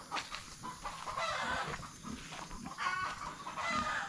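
Pet chickens and a rooster in a noisy commotion, with loud overlapping clucks, squawks and agitated calls filling the whole stretch up close, no talking.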